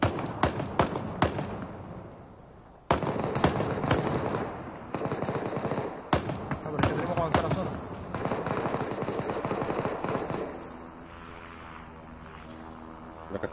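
Bursts of machine-gun fire and single shots crack repeatedly in the battle royale game Super People, loud and close after a brief lull, then easing into a quieter stretch with a droning tone.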